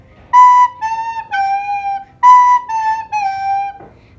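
A recorder plays the descending three-note Hot Cross Buns phrase twice, clear breathy tones held in a slow, even rhythm, close and alone.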